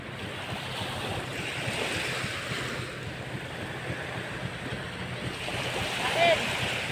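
Steady wash of surf rolling onto a beach, with wind noise and faint background chatter throughout.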